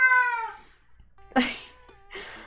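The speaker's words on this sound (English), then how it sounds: "Oh, that's my cat." Pet cat meows close by, a drawn-out tonal cry at the start followed by two shorter, breathier calls, loud and clear with nothing else around.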